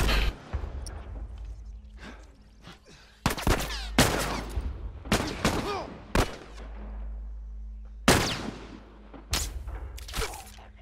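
Gunfire in The Last of Us Remastered: several loud, sharp shots in separate bursts with echoing decays, over a low game rumble with quiet gaps between.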